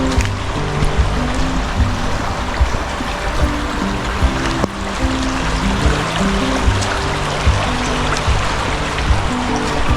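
A river in Blackley Forest, Manchester rushes steadily and close by as a continuous broadband wash of flowing water with no voices.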